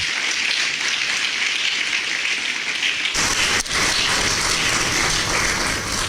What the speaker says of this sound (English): deserves another round of applause from us